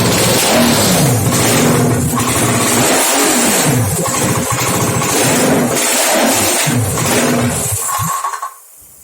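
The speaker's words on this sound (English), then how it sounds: "This engine is not, it's not a good engine." A Nissan 300ZX Z32 twin-turbo VG30DETT engine running loud and close on a run stand, droning steadily with a few throttle swells before the sound cuts off abruptly near the end.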